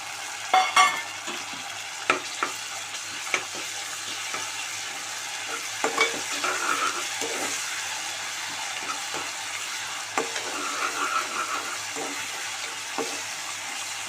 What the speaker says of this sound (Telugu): ఇప్పుడు అల్లం ఎల్లిగడ్డ పేస్ట్ వేసుకోవాలి.